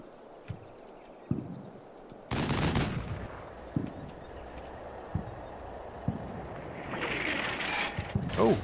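Machine gun fire in the wartime strategy game Combat Mission Red Thunder: sharp isolated shots, then a loud sustained burst, followed by more scattered single reports and a final rattling volley.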